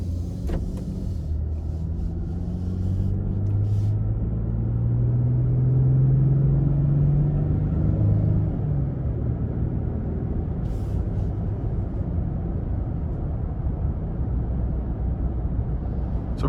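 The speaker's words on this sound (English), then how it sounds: "we're gonna go ahead and take this Frontier out on the road for a quick test drive" Inside a 2022 Nissan Frontier SV pickup on the road, a continuous low rumble of engine and road noise holds steady, with a rising engine note as it accelerates.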